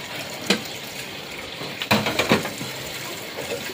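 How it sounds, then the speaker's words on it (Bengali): A running household tap is turned down, a steady close hiss of flowing water with a few brief clunks and splashes partway through. "জলটা কমিয়ে দিই"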